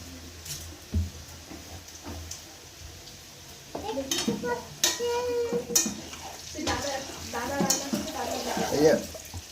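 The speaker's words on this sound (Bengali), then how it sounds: "এই যে আলু প্রায় ভাজা হয়ে এসছে" Potatoes fry in a pan for a chicken curry, with a soft sizzle under intermittent scraping and clattering stirring strokes that grow busier in the second half.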